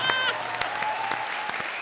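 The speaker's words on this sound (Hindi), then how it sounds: "जोरदार तालियां।" Studio audience applause on a comedy stage show, a dense continuous wash of clapping with faint voices mixed in, steady for under two seconds.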